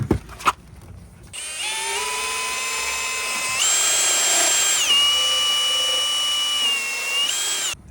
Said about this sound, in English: I got my internal pipe cutter and my cordless drill